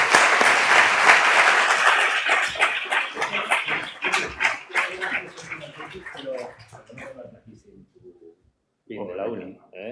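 An audience claps loudly after a lecture, the dense applause thinning out over several seconds into scattered claps, followed by a short stretch of nearby voices talking.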